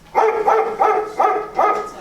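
A dog barks repeatedly, five loud barks in a quick steady rhythm, close by with no other sounds.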